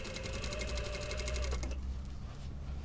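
A sewing machine stitches the side seams of a lined bomber jacket, running in a fast, steady whir for about a second and a half before stopping, leaving quiet room tone.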